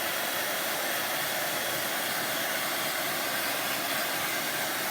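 A hair dryer blows steadily and close up, drying milk paint on a moulded clay wreath; a continuous loud hiss of rushing air with no talking.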